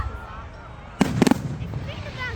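Fireworks on Bonfire Night in Elgin, a few sharp bursts and crackling pops clustered together at moderate distance, with people talking before and after.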